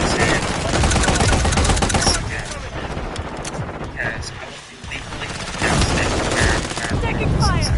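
Dense automatic gunfire rattles through a Call of Duty Modern Warfare 3 match, loud and near with rapid bursts, overlapping explosions and game voice callouts, easing briefly mid-way before resuming.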